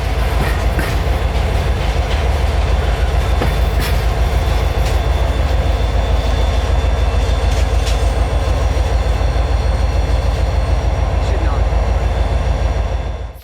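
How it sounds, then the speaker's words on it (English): A yard switcher locomotive working in a rail yard, with a steady, loud rumble and rolling clatter that holds for the whole stretch. A faint voice sits under the noise. "a yard switcher was working here"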